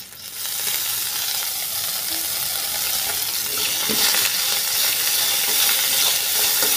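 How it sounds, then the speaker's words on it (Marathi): Coriander frying with green chillies in a pan, a loud continuous sizzle and hiss that builds and holds steady, with faint stirring underneath. "कोथिंबीरीला फ्राय करून घेऊ चांगलं।"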